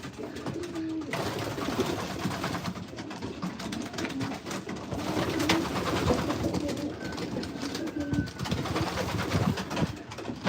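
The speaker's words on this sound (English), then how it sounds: "See the birds." Pigeons at a backyard pigeon loft coo in a dense, overlapping chorus, close and steady throughout, with wing flutters and shuffling mixed in.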